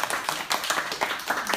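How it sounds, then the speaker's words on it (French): A classroom of beginning French students claps together for several seconds, a quick, somewhat uneven patter of hands that is moderately loud and close, with no voices over it. "Applaudissez-le."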